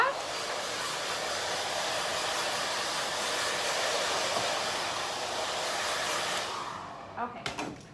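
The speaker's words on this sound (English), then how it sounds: "I'm just gonna blow you guys' hair off." A hair dryer blows loose clipped hair off after a clipper haircut, a steady close roaring whoosh that runs for several seconds before cutting off, followed by a few faint clicks and handling sounds.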